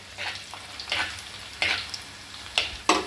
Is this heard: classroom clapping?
no